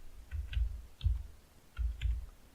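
Typing on a computer keyboard during a CSS and Sass coding lesson: faint, quiet clusters of soft clicks come in a few short bursts separated by brief pauses, with no talking.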